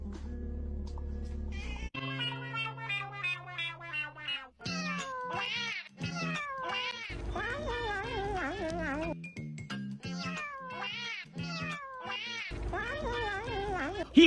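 A cat meows repeatedly in a series of drawn-out, wavering calls, some rising into caterwaul-like wails, with a few short gaps between them. The calls sound close and clear over a low background hum.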